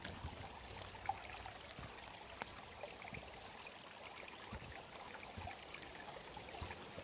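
A small brook flows steadily beside a trout fishing spot at Hopewell Hill, New Brunswick, a faint, continuous water wash with occasional soft splashes and ticks, close and unbroken.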